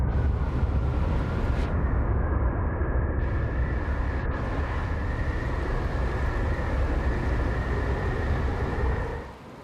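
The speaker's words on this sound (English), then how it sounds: "that's the sound of an exploding sun" An exploding sun in the video game Outer Wilds gives a loud, continuous roaring rumble with a steady high whine above it, sustained for several seconds before the roar fades out at the end.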